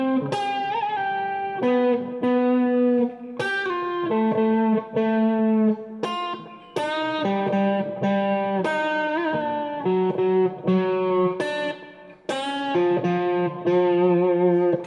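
Electric guitar through effects plays a fast jazz-blues phrase, bright sustained notes changing rapidly with short gaps between runs, loud and alone.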